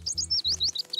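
A baby bird in a children's cartoon trying to fly, giving a quick series of bright, high chirps in rapid succession, close and clear over a soft low background tone.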